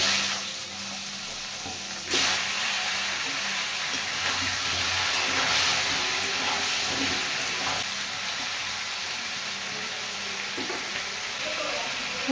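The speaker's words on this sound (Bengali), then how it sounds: "এবার আমি ফুলকপিগুলো ভেজে নেব।" Cauliflower fries in oil with turmeric and salt, giving a loud, sustained sizzle that jumps up after a couple of seconds. Scattered stirring clinks and scrapes follow, and no one speaks.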